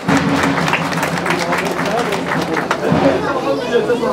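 A crowd claps at a lamb-shearing festival in Beytüşşebap, brisk applause mixed with chatter and voices, loud and close throughout.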